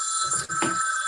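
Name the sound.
phone ringing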